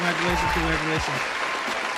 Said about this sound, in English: Now I want to give everybody a round of applause.